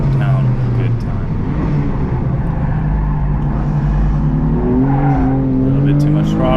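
A race car on a time attack lap at Thunderhill West roars loud and close the whole time, its engine note rising and falling with throttle and shifts, with a faint squeal of tires.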